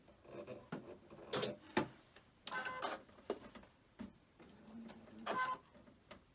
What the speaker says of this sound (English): I'm going to do the straight stitching